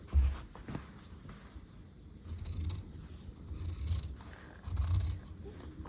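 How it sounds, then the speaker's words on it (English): Scissors trim fabric seam allowances on a dress shirt collar, a series of soft close snips and rustles of cloth, quiet and unhurried, with no speech. "Now we're going to trim down the seams to about just under 1/4 inch"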